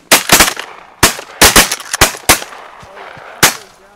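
Shotguns fired at Canada geese during a six-hunter goose hunt, a rapid volley of about nine loud, close blasts in quick clusters, followed by a lone final shot.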